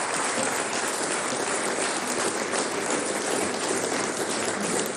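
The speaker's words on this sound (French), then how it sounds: "Je vous prie d'applaudir pour eux," Dense, steady applause from an audience at a charity gala evening for autistic children, a continuous wash of clapping that holds at an even level for the whole stretch with no voices over it.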